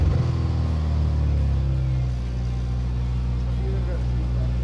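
A Subaru's engine rumbles with a deep, steady exhaust drone, loud and continuous with a slight dip midway, while people talk over it.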